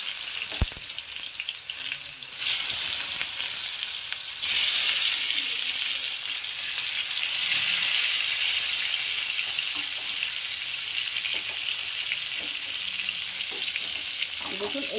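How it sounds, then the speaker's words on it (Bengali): Eggplant pieces frying in hot mustard oil in a pan for a vegetarian doi begun, giving a steady, dense sizzle and hiss that carries evenly from start to finish with no talk over it. "তেলটা আমার গরম হয়ে গেছে। এবার বেগুনগুলো এর মধ্যে দিয়ে দিচ্ছি।"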